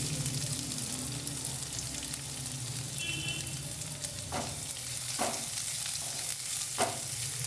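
Chopped onion with green chili fries in a pan, giving an even, steady sizzle up close. Several short spatula scrapes or knocks sound over it near the end.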